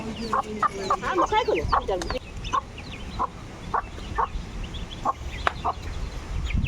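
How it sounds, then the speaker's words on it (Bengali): Chinese duck ducklings peep in quick, high chirps while being fed, with a dense burst early on that thins to scattered calls, close and fairly loud. "আমরা হাঁসের বাচ্চাকে ফিড দেই"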